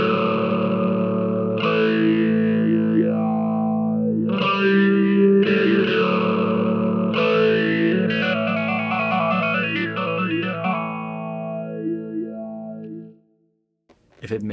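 Electric guitar run through a Fractal Axe-FX style faux talkbox vowel effect playing a riff, with distorted, swelling wah-like vowel sweeps in phrases, loud and alone before cutting out near the end.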